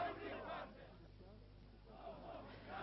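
Distant crowd in Iran in 1979 shouting at an American hostage presented as a spy, a faint, muffled mass of voices rising and falling, heard on an old, narrow-band recording.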